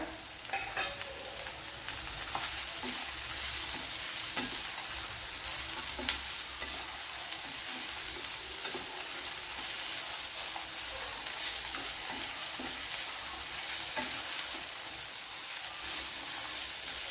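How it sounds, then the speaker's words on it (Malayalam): Cashews, almonds and peanuts frying with softened onion in a pan for a breakfast curry, a continuous sizzle with scattered scraping and tapping from stirring, close and even, without speech. "ഇതിലേക്ക് ഇനി കാഷ്യൂനട്ട്, ബദാം, കപ്പലണ്ടി എത്ര ഇട്ട് കൊടുക്കുക."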